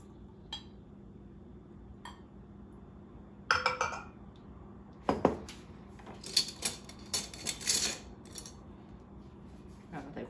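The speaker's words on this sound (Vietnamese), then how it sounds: "là đổ cà phê vào" Coffee is poured into a cup of Vietnamese egg coffee made at home, with faint room hush broken by scattered clinks and taps of spoon, cup and dishes, growing busier toward the end.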